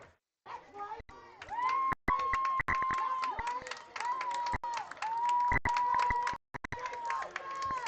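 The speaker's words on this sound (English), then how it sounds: "Penn crowd really getting into it." A high school football crowd at a Penn vs. Elkhart game cheers and roars in bursts beneath a radio announcer's steady play-by-play, the crowd noise swelling and fading behind his voice.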